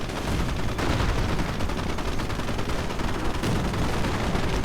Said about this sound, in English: blasting away 75mm high explosive shells